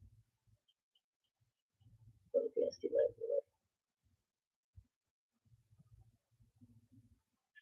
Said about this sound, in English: There is a bird right here.